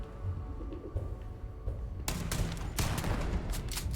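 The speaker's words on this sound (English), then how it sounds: "this shotgun does a lot to these guys" Shotgun blasts in Starfield combat, a quiet stretch with faint background hum and small clicks suddenly broken by a string of loud, sharp booming shots in quick succession.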